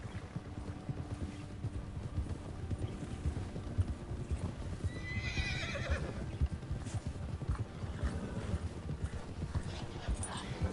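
Horse hooves clip-clop at a steady gallop in the Red Dead Redemption 2 western game, with a neigh or whinny partway through, over a busy game soundscape.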